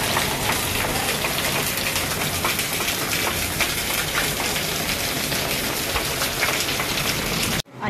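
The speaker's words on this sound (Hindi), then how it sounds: "बारिश हो रही है।" Heavy rain pours down steadily in a dense, hissing wash, loud and unbroken, ending abruptly at the close.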